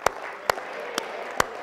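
A keynote audience claps in a few separate sharp claps about half a second apart, mid-distance, over a low room murmur.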